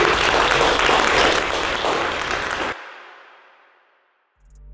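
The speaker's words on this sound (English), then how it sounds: "so can we give them a round of applause?" Audience applause at a community event on neighborhood violence-intervention groups, loud and dense for under three seconds before cutting off abruptly into a fading tail.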